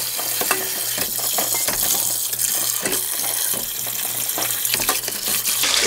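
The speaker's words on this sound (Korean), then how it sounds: "이제 물을 넉넉하게 받아요." Tap water runs steadily into a pot holding pork back bones for boiling, a continuous splashing gush with light clinks, close and fairly loud throughout.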